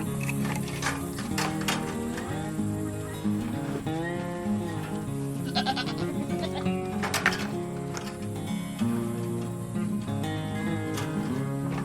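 Goats bleat repeatedly at close range in a farm garden, overlapping calls spread through the stretch with some background noise and no speech.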